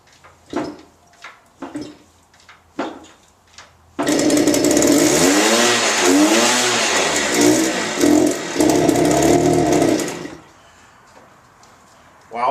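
A Harley motorcycle engine, primed with a shot of ether, cranks and catches into a loud, rough running burst for several seconds before cutting out, with scattered talk before it.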